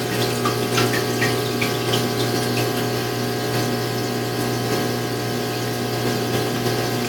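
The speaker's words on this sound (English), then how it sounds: "Now I'm going to add the rest of the water and make sure that the water is flowing well." Steady rushing water pouring and bubbling into a 20-gallon aquarium, with a constant low pump hum underneath, close and continuous throughout.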